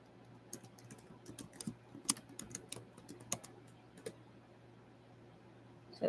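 Computer keyboard typing nearby, a quiet irregular flurry of light key clicks over a low steady hum, with no talk.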